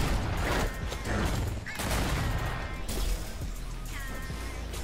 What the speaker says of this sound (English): How about I throw all 5 grenades at you at the same time